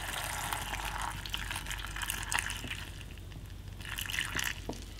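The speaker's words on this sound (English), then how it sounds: "Went ahead and pouring in that pickling liquid." Pickling liquid pours into a canning jar of peppers through a funnel, a steady, fairly quiet liquid rush and gurgle lasting several seconds, with a slight splashy surge near the end and no voices.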